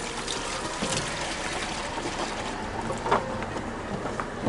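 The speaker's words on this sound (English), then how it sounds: "we're going to take the hose and just like in North America, we're going to rinse everything off" A garden hose rinses out a campervan's emptied waste cassette at a dump point, giving a steady continuous spray and splash of running water close by, with no talking.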